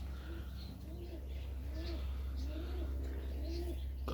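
Serbian Highflyer pigeons coo repeatedly in a loft in Melbourne, Australia, soft rising-and-falling calls recurring every second or so over a steady low hum.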